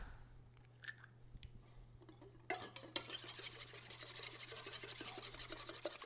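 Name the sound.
whisking two large eggs in a bowl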